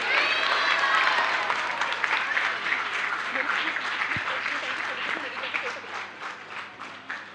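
Enthusiastic audience applause at a Gokul Utsav stage event after a film trailer, loud dense clapping that gradually thins and fades over several seconds, with some voices mixed in.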